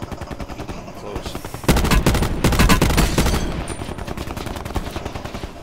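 Dense bursts of automatic gunfire from a battle royale video game, rapid overlapping shots that swell loud midway and then continue in quicker, lighter volleys.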